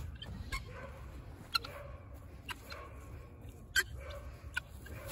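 Guinea fowl being let out of a coop, quiet scattered clucks and calls repeating at intervals, broken by a few sharp knocks over a low background murmur.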